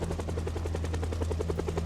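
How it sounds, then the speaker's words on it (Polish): A helicopter circles close by in the zombie survival game Project Zomboid, its steady rotor chop pulsing rapidly over a deep, constant engine rumble, loud and unbroken with no voices. "Jak na złość ten helikopter krążył tutaj w okolicy."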